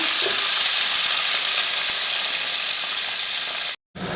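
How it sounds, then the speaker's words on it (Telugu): Broad beans fry in oil with a loud, continuous close hiss and sizzle that cuts off abruptly near the end before resuming. "ఆయిల్లో ఫ్రై అవుతున్న చిక్కుడుకాయలు ఉన్నాయి కదా"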